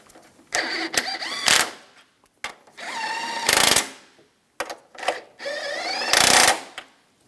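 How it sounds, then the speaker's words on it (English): Power tool tightening strut nuts on a 2004-2009 Toyota Prius front strut assembly, three loud whirring bursts that rise to a rattling impact at the end of each, separated by short pauses. "With the vehicle on the ground, we're going to tighten these nuts."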